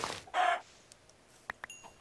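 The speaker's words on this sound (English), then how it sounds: "Hey, I found a chicken." A Minecraft chicken gives a couple of short, near clucks at the start, followed by a few faint clicks and small sounds in an otherwise quiet space.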